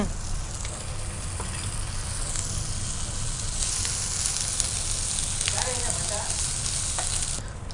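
Ginger garlic paste frying in a pan for a kaju masala curry, a steady close sizzle running throughout with occasional stirring scrapes.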